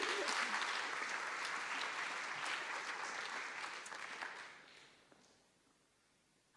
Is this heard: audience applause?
yes